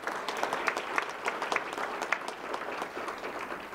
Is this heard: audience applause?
yes